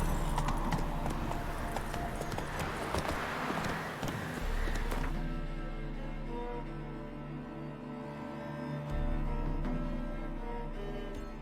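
A horse gallops in the video game The Witcher 3, its rapid hoofbeats clattering for about five seconds before the footfalls fade and a low steady music bed remains.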